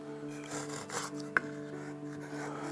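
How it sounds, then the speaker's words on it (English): A sharp chisel peels shavings from a basswood feather in soft, close rasping strokes, with one sharper scrape, over a steady hum in a workshop. "as long as your chisels are very, very sharp, it just peels off very nicely"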